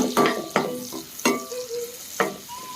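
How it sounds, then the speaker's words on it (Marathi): Chilli and onion dropped into hot oil and butter in a pan for macaroni pasta, with several sharp stirring clanks and bursts of sizzle at irregular intervals and a brief high ringing tone near the end, close up with no voices. "थोडंसं ऑइल, थोडंसं बटर, मस्तपैकी पहिला मिरची आणि कांदा टाकूया"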